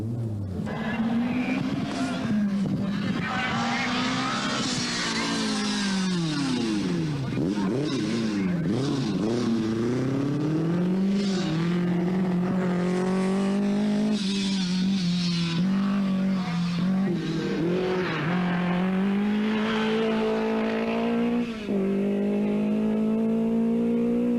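Rally cars from the 1983 Rotherham Circuit of Ireland racing at Mondello Park track in County Kildare, engines revving and swooping up and down through gear changes with tyre squeal, loud and sustained as a car passes close by.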